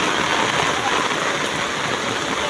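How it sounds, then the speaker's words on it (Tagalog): Heavy rain pours steadily in a dense, continuous hiss, with gusty wind adding a rushing roar throughout, during flooding near La Mesa Dam in Fairview. "ang lakas ng hangin ulan"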